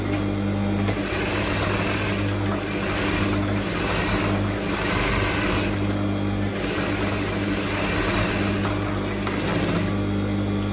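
A sewing machine runs long stitches on a frock, its motor whirring close and continuously with a faint pulsing rhythm throughout, with no one speaking.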